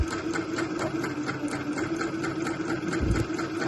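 A sewing machine stitches a second row of gathering along a tee sleeve, a steady rapid mechanical whirr with a fast even needle rhythm running continuously close by.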